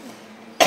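A person gives a single short, loud cough at the very end, after near silence.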